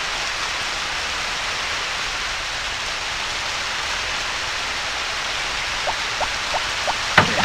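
Steady rain falls in the PS1 farming game Harvest Moon: Back To Nature as an even, constant hiss throughout, with a few faint clicks near the end.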